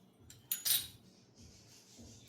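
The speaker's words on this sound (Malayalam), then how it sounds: "ടീസ്പൂൺ കയ്യിൽ വെച്ചിട്ട് തന്നെ അടിച്ചെടുത്താൽ മതി." A teaspoon beats eggs in a bowl. A quick cluster of bright, quiet clinks rises briefly against the bowl, then fades to near silence.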